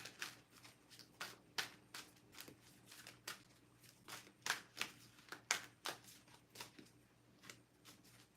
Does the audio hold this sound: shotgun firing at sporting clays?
no